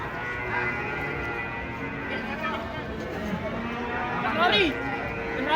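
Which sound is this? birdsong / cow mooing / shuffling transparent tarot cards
cow mooing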